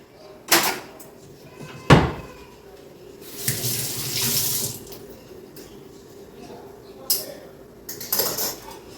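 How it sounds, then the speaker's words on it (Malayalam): A tap runs into a sink while brinjal is rinsed, with intermittent clatter of dishes and bumps; water flow swells and fades. "കത്തിരിക്ക് കഴുകി വെക്കാം"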